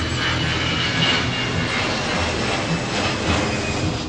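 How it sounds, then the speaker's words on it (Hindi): A Boeing 787 Dreamliner passes overhead with a broad, steady roaring rush of jet engine noise, loud and sustained across the whole span, with no voices present. "जब कोई 787 ड्रीमलाइनर का प्लेन इस तरीके से आपके ऊपर से गुजरेगा, उसकी आवाज अलग आती है।"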